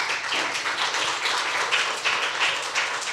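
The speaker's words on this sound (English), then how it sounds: "Let's give these two gentlemen a round of applause." Steady, full-room applause rings out for two gentlemen at the close of a keynote at an AI and sustainable development conference, a continuous patter of many hands with no voices over it.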